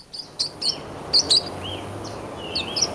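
Small birds chirp in a royalty-free sound effect sample, quick bright tweets coming in short clusters against a soft background hiss, with faint insect noise underneath and no voices.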